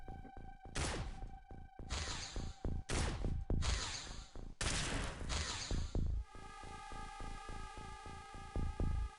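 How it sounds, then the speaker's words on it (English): A laser cannon fires in the X-Com Files video game: a string of about eight sharp, loud blasts with short gaps, then a fast run of rapid, evenly spaced bursts. "It's a laser cannon."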